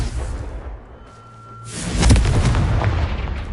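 A Confringo spell explosion in Hogwarts Legacy follows a quiet spell-casting lull with a faint tone, then a deep, loud boom that rumbles and fades slowly.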